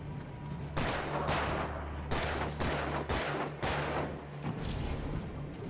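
Repeated gunshots in the video game Alan Wake Remastered, a run of sharp, loud bursts spaced about half a second to a second apart, with a steady low hum of game ambience underneath.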